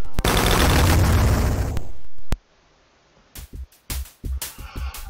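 A Chain Gunner enemy in WolfenDoom opens up with its chaingun, a loud continuous roar of rapid fire lasting about two seconds, then a sharp report, a pause, and a few scattered shots and thuds.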